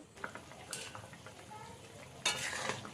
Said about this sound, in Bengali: ভালো করে মিশিয়ে দিলাম খুন্তি দিয়ে